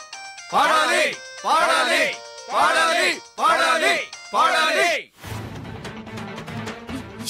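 A telephone rings indoors in a five-note repeating ringtone pattern, then stops as a voice begins speaking.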